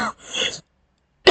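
A person coughs and clears their throat in two short, close bursts separated by about half a second of silence.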